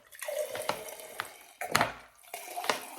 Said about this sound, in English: Oh, what a way to pour a cocktail.